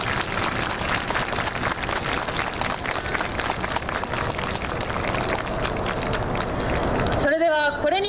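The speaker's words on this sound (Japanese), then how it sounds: "盛大な拍手をお願いします。" An outdoor crowd at an air base open house claps in sustained, dense applause following a guard dog training demonstration, steady and fairly loud for several seconds before a voice speaks over it at the end.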